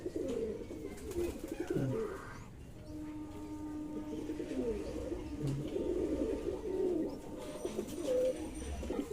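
Fancy pigeons, including young birds sunning in their loft, give soft repeated coos nearby, a low throaty murmur that rises and falls over continuous background noise.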